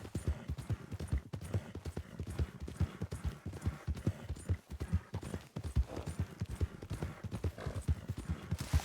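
Steady clip-clop of horse hooves in a video game at a trotting rhythm, close and continuous, with faint background sounds.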